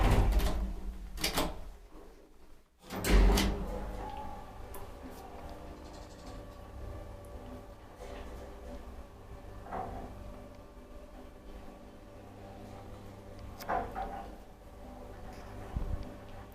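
An old Kone traction elevator in a Tornio apartment building runs with low mechanical hum, while clunks and thuds of the doors and car sound in an irregular series, louder at the start.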